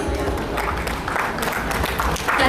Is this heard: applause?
yes